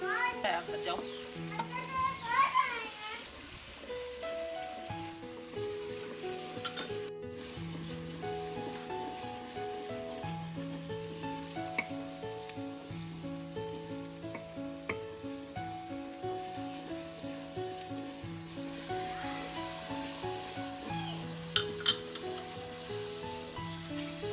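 Tomatoes, green onion and masala sizzle steadily in a pan for a village-style kadhi pakora, a continuous frying hiss heard under background music with occasional faint voices.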